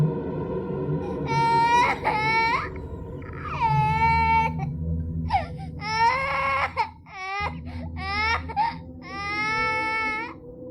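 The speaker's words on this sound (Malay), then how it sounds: "Dan anak saya punya menangis tu bang Lain macam sungguh malam tu Dan dia boleh melalak kuat-kuat" A baby crying loudly in repeated wailing bursts, close and piercing, with short breaths between cries over a low background rumble.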